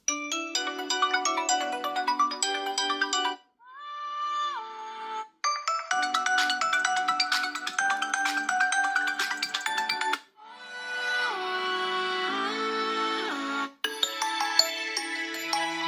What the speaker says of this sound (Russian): Послушаем сейчас, как он звучит на стандартном рингтоне.